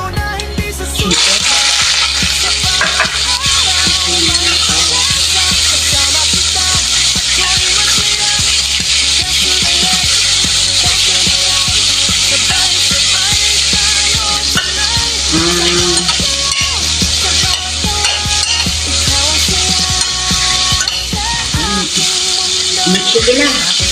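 Chicken frying in oil for pancit bihon, a steady crackling sizzle that lasts the whole stretch, broken by the scrape of stirring, with voices talking now and then over it.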